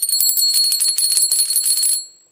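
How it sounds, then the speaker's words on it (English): A small bell inside a heavy-duty vintage commercial kitchen wire whisk jingles in a rapid, bright shimmer for about two seconds, then cuts off into silence. "it's got a bell in it."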